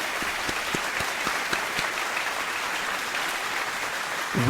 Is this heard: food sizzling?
no